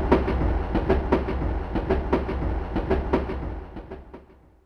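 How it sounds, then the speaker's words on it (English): A train rumbles past up close, with rhythmic clickety-clack beats from the wheels on the rails, fading out at the end. "A train."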